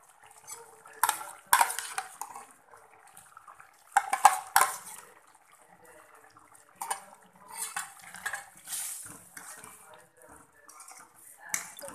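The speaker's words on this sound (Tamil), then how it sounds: "இந்த ஸ்டேஜில் வந்து நம்ம பருப்பு போட்டுக்கலாம்" Lentils go into a pan of ridge gourd curry, with scattered clinks, scrapes and stirring clatter of utensils against the pan, sparse and fairly quiet.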